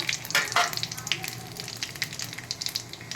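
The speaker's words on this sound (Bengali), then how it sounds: "এবার একটা আমি জিরে ফোড়ন দিচ্ছি, একটা শুকনো লঙ্কা, দুটো তেজপাতা" Cumin seeds, a dried red chili and bay leaves tempering in hot mustard oil in a kadai, a bright continuous sizzle and crackle with a louder spitting burst at the start, no talking.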